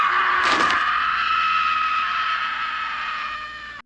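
A character in the 1985 horror film Freddy's Revenge screams in terror after a nightmare, a loud, sustained cry that opens with a harsh burst and holds steady for several seconds before trailing off.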